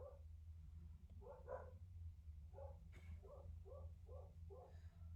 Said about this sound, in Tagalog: Nagtatahulan na naman yung mga aso.